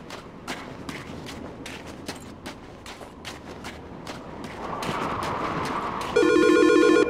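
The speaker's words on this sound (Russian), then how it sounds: "Телефон звонит." A telephone rings in Silent Hill: Shattered Memories on the Wii, heard over game ambience and footsteps-like taps, with a louder electronic ringing tone swelling in during the final seconds.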